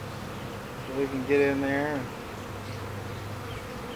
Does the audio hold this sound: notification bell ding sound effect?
no